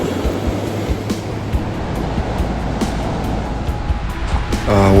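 Ocean surf washing continuously onto a beach in Northland, New Zealand, a steady loud rush of waves with wind buffeting, swelling slightly louder near the end.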